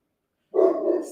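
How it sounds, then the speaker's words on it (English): A dog barks excitedly at a grocery delivery arriving at the door, a loud close burst of barking that starts abruptly after a moment of silence and carries on without pause. "My dog is nuts because my groceries are getting delivered. So disregard all the barking."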